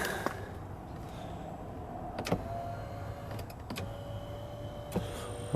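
Power seat motor in a Mercedes-Benz W211 running after its control was replaced: a faint, steady electric whir with a few small clicks, quiet and close inside the car.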